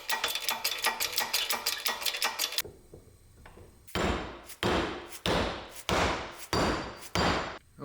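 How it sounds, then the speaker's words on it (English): A rapid series of light metallic taps, then after a short pause, several sharp hammer blows pressing parts into place ring out one by one at a steady pace, fairly close. "Oh, I guess you could just press those in with a hammer."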